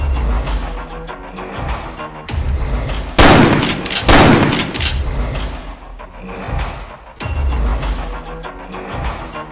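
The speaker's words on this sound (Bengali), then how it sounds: "আগে দুটো ফাঁকা গুলি ছোড়ো তো।" Two blank rounds fired from a gun at a forest edge during a tiger search, heard as sharp loud cracks that ring out broadly in the middle of the stretch, set among quieter ambient noise and rustling.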